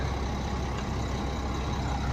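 A 1999 Mack RD688S truck engine idles with a steady, dense diesel rumble. The low drone stays even and continuous from start to finish, with no voices.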